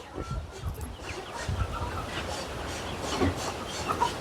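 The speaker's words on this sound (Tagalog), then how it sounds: "Yan yung manok natin guys." Farm chickens cluck a few times at close range against a low background of rustling and faint murmured voices.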